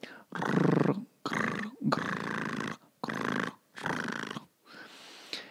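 A voice imitates a rhonchus lung sound with several low, rattling, snore-like rumbles in a row, separated by short pauses.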